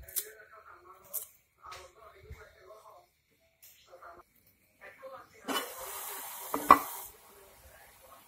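Coriander leaves being stirred into a village-style pork curry, with soft scraping stirs and a brief sizzle swelling near the end, close by amid quiet pauses.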